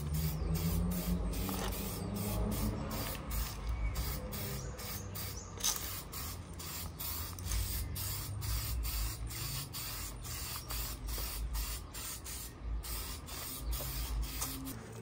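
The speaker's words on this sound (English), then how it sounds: "So I'm going to spray it with some semi-gloss." A spray can of semi-gloss paint hisses steadily in repeated short and long bursts, close by, with faint rattling between the sprays.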